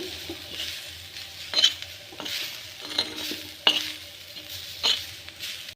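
Black pepper, cumin and curry leaves dry-roast in a pan while a spoon stirs them, a soft rustling crackle broken by about five distinct scraping clinks of metal against the pan, close and fairly quiet.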